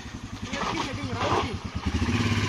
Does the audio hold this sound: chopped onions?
no